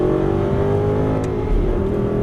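An Aston Martin racing car engine in a video game drones steadily at high revs, a sustained buzzing roar that holds nearly level throughout.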